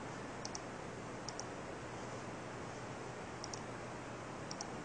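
Faint, sharp double clicks of a computer mouse, four pairs spaced apart, over a steady hiss of background noise.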